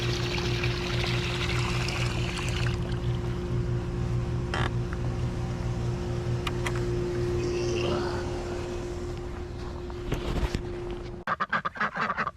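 Water pours steadily on a cold morning walk while ducks or geese quack and honk nearby, then a burst of splashing and clattering comes near the end.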